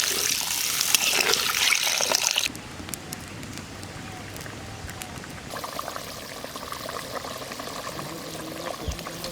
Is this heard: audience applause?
no